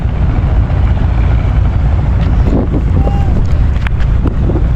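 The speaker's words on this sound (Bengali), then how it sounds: "দেখেন সামনে দিয়ে জাহাজ যাচ্ছে তেলের ট্যাঙ্কার যাচ্ছে বোট যাচ্ছে কার্গো বোট যাচ্ছে" Boats, an oil tanker and cargo boats passing on the Karnaphuli river near Chattogram: a constant low engine drone beneath heavy wind rumble on the microphone, with faint scattered knocks and a brief whistle-like tone.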